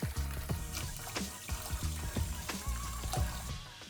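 Margarine, milk and water are poured into a cooking pot for a semolina dessert, a close, continuous splashing liquid stream with small gurgles and knocks, no voices.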